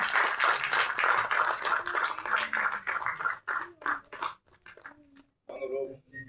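A crowd at a movie audio launch event claps in a dense burst of applause with talking over it, then the clapping stops and a single voice carries on alone.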